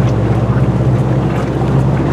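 A Land Rover wading slowly through water at under five miles an hour, pushing a bow wave, with a steady rushing wash of water and low engine rumble, loud and continuous throughout.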